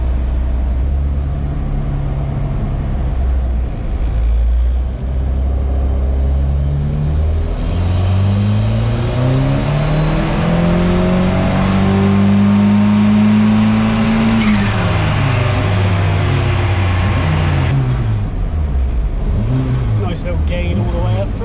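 A Ford Mk2 Escort with a turbocharged Pinto engine revs hard on a rolling road dyno. The loud engine note climbs steadily, holds high, then drops back. Steady roller and tyre whine runs underneath, and people talk over the noise.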